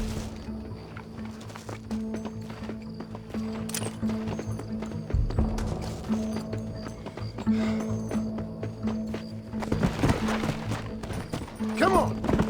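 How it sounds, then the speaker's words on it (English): Horses in the Red Dead Redemption video game, their hooves clip-clopping in a steady rhythm under a sustained music score and other game sounds, with a rising flurry of activity toward the end. "Get one of those horses. I will ride with you"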